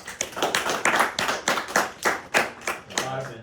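Debate audience applauding after a speech on firearms in the classroom, a modest round of separate claps in an uneven rhythm that lasts a few seconds.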